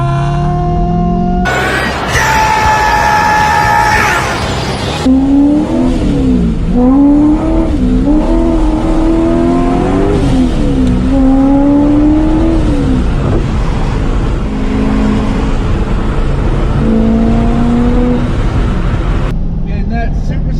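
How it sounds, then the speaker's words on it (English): A supercharged 700 hp Corvette C5 Z06 accelerates hard, its engine note climbing through several loud rising sweeps as it shifts through the gears, heard close from inside the car. A voice cheers over the roar. "And that supercharger."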